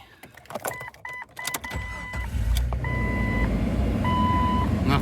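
Ignition cycle on a Jeep with a 4-liter engine: several short dashboard warning chimes, then the engine cranks and settles into a steady, close idle rumble.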